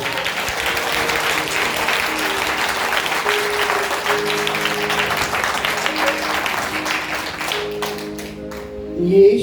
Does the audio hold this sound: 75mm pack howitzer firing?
no